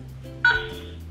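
A phone keypad sends one brief, clear dialing tone over a quiet background, with no one talking.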